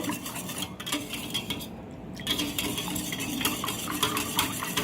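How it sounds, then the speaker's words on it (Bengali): Eggs and milk are whisked together in a bowl for caramel pudding, a continuous scraping and clinking of a utensil against the bowl, close and steady, with a brief pause in the middle. "পুরা ডিমটাকে ভালো করে মিক্স করতে হবে দুধের সাথে"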